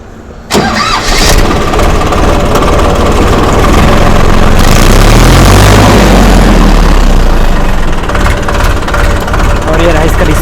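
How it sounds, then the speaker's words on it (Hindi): An Eicher 551 tractor, 49 hp 2022 model, cranks and fires, then settles into a loud, steady diesel chug close by that runs without a break, with some added revving partway through. "चलिए ट्रैक्टर को स्टार्ट करके आपको इसका आवाज़ सुनाते हैं"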